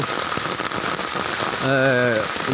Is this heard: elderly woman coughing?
no